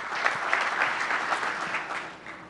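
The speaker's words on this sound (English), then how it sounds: "Nice round of applause for Patrick." A crowd at a mayor's forum claps for Gilbert's town manager, brisk steady applause from a roomful of people lasting a couple of seconds with no talking over it.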